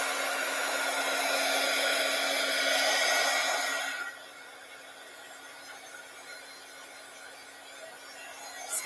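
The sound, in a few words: hair dryer drying a craft project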